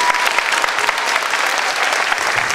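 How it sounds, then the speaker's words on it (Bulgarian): Sustained audience applause fills a hall at a 20th-anniversary celebration of a children's theatre troupe, a dense, even patter of many hands clapping continuously throughout without any voices. "Аплодисменти!"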